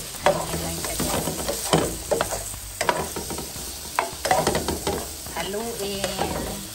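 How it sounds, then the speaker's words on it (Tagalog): Pork is stirred in a hot pan to render its fat for Filipino humba, a steady sizzle broken by repeated scraping strokes of the spoon, close and fairly loud. "Haluin, pinalabas yung taba. Yan ang ginagawa namin sa humba guys, pinakuksan na ang taba ng baboy."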